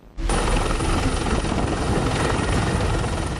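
A rescue helicopter hovers over a ship grounded off Kocaeli while the crew is evacuated, its rotor and engine roar starting abruptly and holding loud, dense and steady at close range, with no voices.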